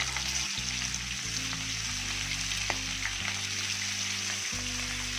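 Fish slices frying on a tawa over a low flame, giving an even, continuous close sizzle with faint crackles throughout.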